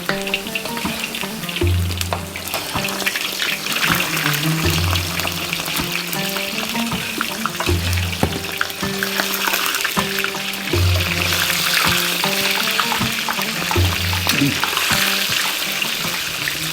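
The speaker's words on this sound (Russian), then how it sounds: "Я вот буду сейчас обжаривать перепелки." Quail fry in heated oil with a loud, steady sizzle and crackle, beneath faint background music and occasional voices.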